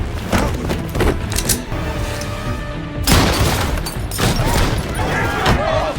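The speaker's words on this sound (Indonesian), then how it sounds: "Sehingga penembak jitu menembak Murphy yang dikira You Mike" Heavy gunfire and booming blasts from an action film's sniper scene crash in two loud bursts, the first running about three seconds and the second following a brief break, set against a dense, rumbling soundtrack.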